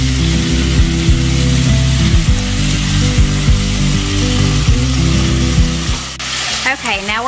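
Meat browning in a hot pan, a steady loud sizzle running throughout with clanks and scraping of a utensil as pieces are flipped and diced onion goes in; a person speaks briefly.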